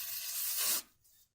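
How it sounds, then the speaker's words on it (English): A short hissing burst of contact cleaner sprayed onto a Q-tip, close and faint, cutting off sharply after under a second. "You spray some contact cleaner on the Q-tip"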